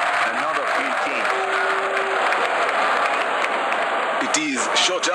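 A big cricket crowd at a Pakistan vs Sri Lanka ODI cheers and applauds in a sustained, roaring wash, with a commentator's voice talking over it and a louder burst near the end.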